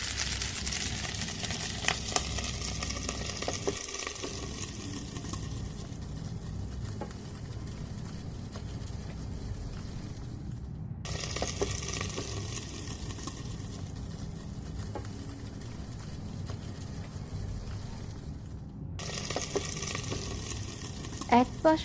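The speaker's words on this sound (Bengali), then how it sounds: "কাবাবগুলো এখন ভালো করে ভেজে নিব।" Tuna fish kebabs sizzle in hot oil in a pan, a continuous close crackle with occasional light taps and stirring, and a soft voice briefly in the background.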